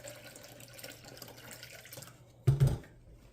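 Water pours into a pot of beet soup (borscht) on the stove in one short burst of splashing that lasts a fraction of a second, loud and close over a faint kitchen background.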